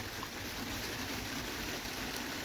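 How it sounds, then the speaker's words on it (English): Steady rain falling outside an open garage door, a continuous broadband hiss with no distinct drops, moderately faint and unbroken throughout with no talk. "Y'all could listen to the sound of the rain if you could hear it in the background"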